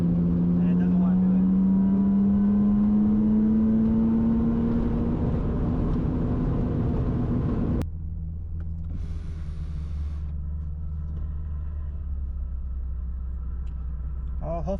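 A G35 with a failing clutch slave cylinder, air conditioning on, idles and strains in a steady engine rumble, with a rising tone early on before the drone drops lower and settles for the rest.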